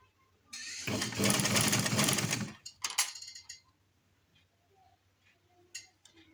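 A sewing machine stitches a flat collar, running in one loud, fast, steady burst for about two seconds and then stopping, followed by a few small clicks and handling noises in a quiet room.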